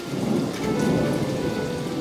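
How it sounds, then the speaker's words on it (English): Steady rain falls during a thunderstorm, with rumbling thunder rolling beneath the hiss of raindrops hitting surfaces, continuous and moderately loud. "It's still raining. It's still lightning like crazy."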